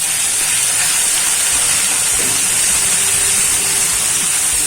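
Mustard seeds, cumin, sesame and ginger-garlic-chili paste fry in hot oil for a Gujarati semolina and potato snack, producing a loud, steady, close sizzling hiss that runs throughout with no talk.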